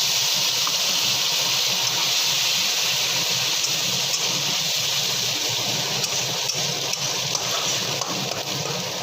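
Onion paste dropped into hot oil with bay leaves, whole garam masala and cumin seeds in a home kitchen, producing a loud, continuous, even hissing sizzle that holds steady throughout.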